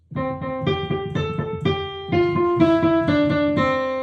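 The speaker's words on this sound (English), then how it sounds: "Usually just a melody played by itself is monophonic." A single melodic line plays alone, a series of clear sustained notes stepping up and down at a moderate pace with no accompaniment.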